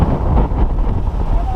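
Strong wind buffets the microphone during a scooter and motorcycle group ride, a loud, continuous roaring rush with no break.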